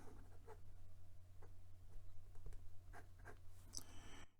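A Moonman C3 fountain pen with a fine nib writing on paper, giving faint, close scratchy strokes and small ticks over a steady low background hum.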